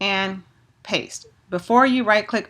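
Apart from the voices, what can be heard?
None of the usual background noises is heard.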